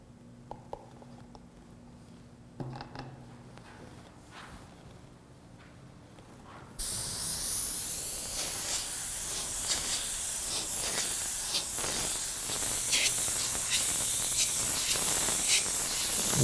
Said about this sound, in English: I'm going to get it in the airbrush and show you what it looks like.